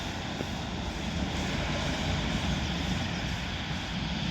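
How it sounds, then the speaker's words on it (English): A Northern Class 150 two-car diesel passenger train rumbles and drones steadily nearby as it departs Wigan North Western station, a constant low engine roar without any voices. "this Northern Class 150 departs"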